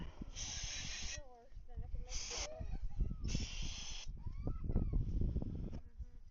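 Three bursts of broadband aerosol cleaner spray hissing, each about a second long, close by on a 1972 Honda SL350 motorcycle, with clattering handling noises and a voice in between.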